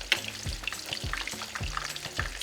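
Breaded steak (bistec empanizado) sizzles steadily in a frying pan, a close crackling hiss with a few soft bumps and spatters and no talking.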